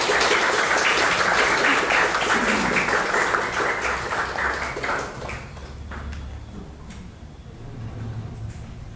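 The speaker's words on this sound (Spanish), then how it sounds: "Demos palmas al señor Carlos Cristán Sandoval." An audience at a talk on soil ecosystem services applauds a speaker, a full, dense burst of clapping that thins after about five seconds into scattered claps and faint room noise.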